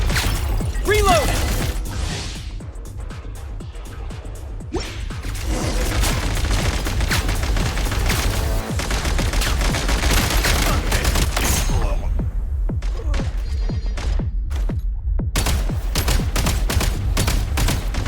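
Bursts of rapid gunfire during a Genshin Impact event, machine-gun volleys and single sharp shots packed densely with brief lulls, loud and up close, with voices calling out between the shooting.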